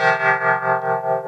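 A sustained synth tone run through the distortion effect of a Zoom MS-50G pedal, buzzing and harmonically rich, with a slow pulsing swell in volume over about a second.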